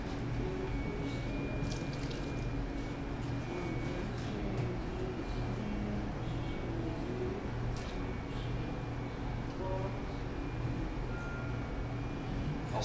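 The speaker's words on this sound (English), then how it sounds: "Skim off a little more beer." Beer being skimmed off harvested yeast in a brewing pot, giving a steady wet, dripping and trickling liquid texture throughout, moderately close with no talking.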